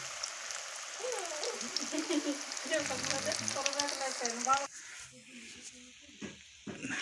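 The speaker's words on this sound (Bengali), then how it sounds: "দেখুন এভাবে কত সুন্দর ভাজা হয়ে যাচ্ছে ফুলকপিটা।" Cauliflower florets coated in cornflour frying in oil for a vegetarian gobi masala, a close, continuous sizzle running under a person talking, then thinning out and going quieter for the last couple of seconds.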